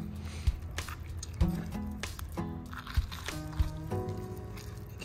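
Fish guts are ripped out by hand on a rock jetty, giving wet squelching, tearing and dripping sounds in irregular bursts, close up with no talking.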